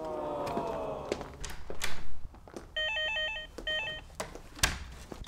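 A telephone rings in two short warbling electronic bursts in an indoor room, close and clear, with faint rustles and a thump around it.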